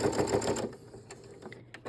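Sewing machine stitching the seam of a small fabric key fob, a fast even run of mechanical needle clatter for about half a second, then stopping, leaving faint clicks and handling noises.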